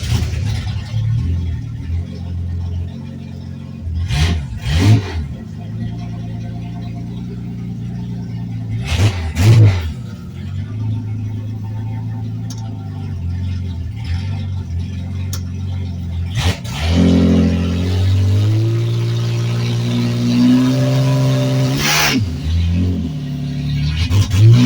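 A turbocharged Ford 300 inline six swapped into a Torino runs steadily at a loud, close idle, with a few sharp blips and a rising rev toward the end.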